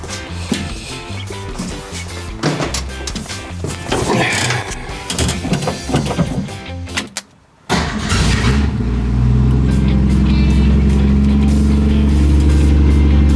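A 1965 Ford Mustang straight-six cranks with a busy, clattering starter whir, pauses briefly, then catches and settles into a loud, steady idle close by.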